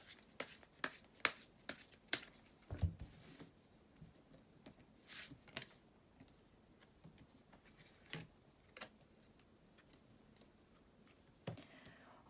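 Tarot cards are shuffled before one is drawn: a quick run of crisp riffling bursts, then sparser soft card snaps and slides, quiet and close with no talking.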